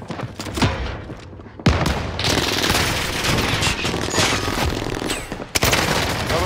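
Rapid automatic gunfire in a video game, dense sustained bursts with a couple of sharp louder shots, close and loud, with no talk over it.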